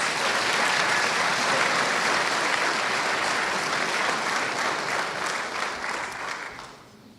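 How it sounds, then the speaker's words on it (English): Sustained applause from a graduation ceremony audience for Master of Nuclear Engineering graduates, a dense, even roar of many hands clapping that fades out over the last seconds. "So one last round of applause for our Master of Nuclear Engineering graduates."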